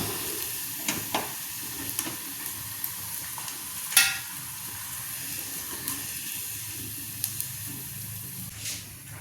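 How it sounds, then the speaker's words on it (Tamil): Grated coconut, dried red chillies, curry leaves and garlic fry in a pan with a soft, continuous sizzle, interrupted by occasional scraping taps and one sharper clank of a spoon against the pan. "தேங்காய், வத்தல், கறிவேப்பிலை, உள்ளி இதெல்லாம் வறுத்துக்கும்"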